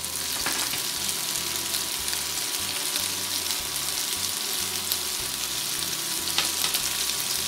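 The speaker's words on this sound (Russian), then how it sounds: "Все перемешаю и продолжаю обжаривать." Chicken with beans and onion frying in a pan, a loud constant close sizzle with faint stirring scrapes and no talking.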